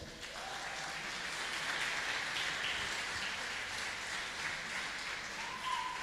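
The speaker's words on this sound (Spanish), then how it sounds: "Fuerte el aplauso." Church congregation clapping together in a continuous, even wash of applause, fairly soft and steady throughout with no voices standing out.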